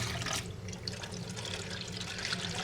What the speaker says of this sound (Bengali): তার জন্য ডালটা ধুয়ে নিচ্ছি।